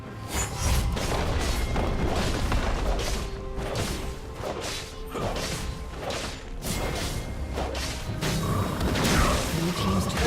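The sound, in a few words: turret destroyed in League of Legends video game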